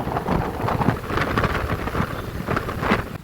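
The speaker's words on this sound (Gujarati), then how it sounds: "જબરજસ્ત ઠંડી લાગે, પવન ફૂલ ચાલે છે" Strong, cold wind buffets the microphone in rough, rumbling gusts during a rainstorm, loud and continuous, with a faint patter of rain.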